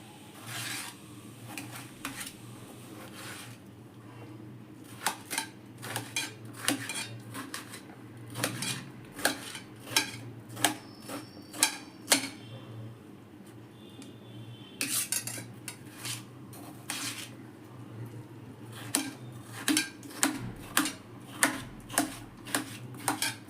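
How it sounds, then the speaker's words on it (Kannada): A knife chops peeled cucumber into small pieces on a board, crisp close knocks coming in quick rhythmic bursts separated by brief pauses, with a low steady hum behind. "ಸೌತೆಕಾಯಿಯನ್ನು ಚಿಕ್ಕದಾಗಿ ಹೆಚ್ಚಿಕೊಳ್ಬೇಕು"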